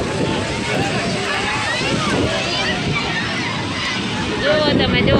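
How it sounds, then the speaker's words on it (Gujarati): Sea waves washing and sloshing along the shore at Shivrajpur Beach near Dwarka, a steady loud surge with wind buffeting the microphone throughout. "તમે જો મોજે મોજ છે ને દરિયાની."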